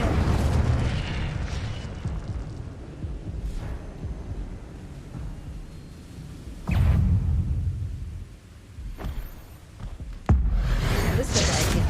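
An Incendio fire spell cast in Hogwarts Legacy bursts out in booming, fiery whooshes, several sharp blasts at irregular intervals over a rumbling game background, with a voice talking underneath.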